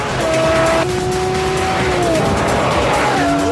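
A Lamborghini driving fast gives a loud, continuous engine roar close by, its pitch holding steady and then dropping and climbing again as it shifts through gears, with a faint hint of tire noise.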